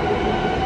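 A passing train fills the moment with a steady, heavy rumbling roar, loud and close with no break.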